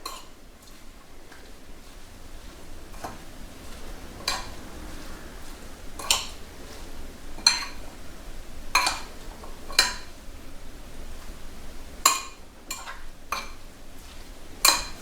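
A spoon knocks and scrapes against a bowl while fresh tomato pico de gallo with lime is stirred together, giving sparse, quiet clinks at irregular intervals against a low background hush, with no talking.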